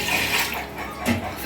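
Water pours in a brief, steady rush onto rice, one and a half glasses to each glass of rice, for chicken biryani.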